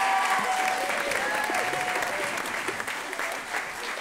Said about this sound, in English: So can we have a massive round of applause for our performers